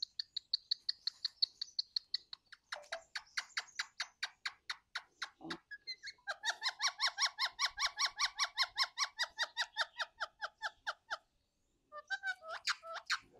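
A parrot chirping in rapid, evenly spaced squeaky notes, near and loud, running in long bursts with a brief pause before resuming.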